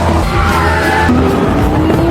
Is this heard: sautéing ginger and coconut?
no